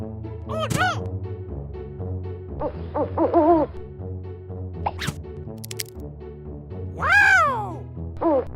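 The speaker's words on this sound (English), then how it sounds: "Owl! Owl! Owl!" A children's toy owl gives several bright electronic hooting calls, close and fairly loud, with a voice speaking between the hoots.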